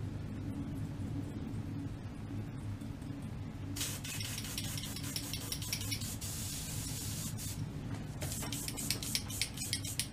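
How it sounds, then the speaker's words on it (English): Airbrush spraying while being cleaned out between paint colours, a steady airy hiss with bursts of brighter spitting spray, heard alone and fairly close. "That's the sound of a clean airbrush."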